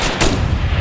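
A video-game gunshot goes off, one loud, close, booming blast with a sharp crack and a heavy rumbling tail, heard alone without speech.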